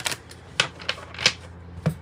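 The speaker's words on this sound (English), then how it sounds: "I think I need to shuffle it one more time like this." Crisp, dry card snaps from shuffling a tarot deck, five or six sharp clicks in an uneven rhythm, close and fairly loud, with no talking.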